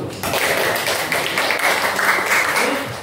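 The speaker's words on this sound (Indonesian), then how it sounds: "Oke, tepuk tangan dulu." A classroom of students claps hands together, a steady dense patter of many overlapping claps that fills the whole stretch at even loudness, with no talking over it.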